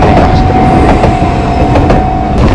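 Loud, close rumble and rhythmic wheel clatter fill the whole stretch as an Enoden train runs past Kamakura-Kokomae station near a level crossing.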